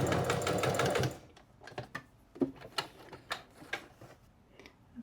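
A sewing machine stitches a straight seam in a loud, dense burst, then falls into a scattered series of quieter clicks and ticks as the fabric is adjusted.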